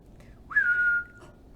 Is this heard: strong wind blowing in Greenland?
no